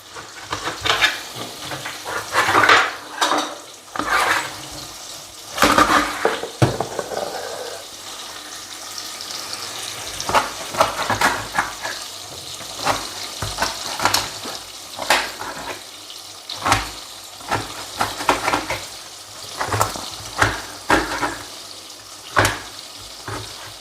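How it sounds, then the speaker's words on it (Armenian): Sausage frying in a pan, a steady sizzle running throughout, broken by repeated sharp clicks and knocks of utensils and dishes from nearby kitchen work. "Մինչև երշիկը կտապակվի"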